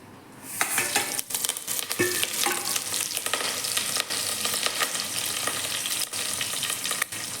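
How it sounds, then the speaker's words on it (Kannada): Hot oil crackles and sizzles loudly as tempering spices fry for a sprouted-bean sambar, with occasional spoon scrapes and clicks against the pan throughout. "ಅದನ್ನು ಸ್ವಲ್ಪ ಫ್ರೈ ಮಾಡ್ಕೊಳ್ಳಿ"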